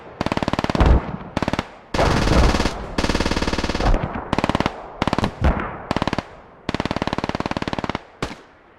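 Rapid machine gun fire from the video game Squad rattles in loud, steady bursts of evenly spaced shots, some long and some short, separated by brief pauses and echoing slightly.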